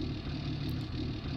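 A tractor engine idles in the video game Farming Simulator 19, a steady low rumble that holds even for the brief moment with no other sounds.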